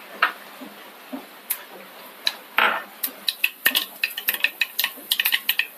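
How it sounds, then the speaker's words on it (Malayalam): Mustard seeds dropped into hot coconut oil start with scattered sharp pops that quicken into a dense run of crackling spatters, close and fairly loud, with no one speaking. "ചൂടായ എണ്ണയിലേക്ക് കടുക് ചേർക്കാം."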